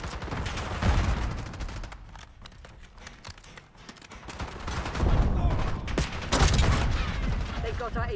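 Video game gunfire rattles in rapid bursts and volleys during a fight to protect a high-value target, dense and loud at times, with chaotic game sounds mixed in.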